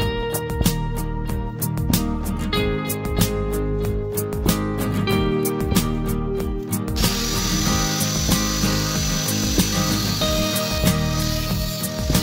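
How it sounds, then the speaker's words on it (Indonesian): A PVC pipe end cap for a 4-inch pipe being sawn off, with loud, close, rapid rasping strokes that keep cutting steadily and grow brighter and harsher partway through. "Saya potong dop ini yang nanti potongannya ini untuk mengganti pipa 4 inch."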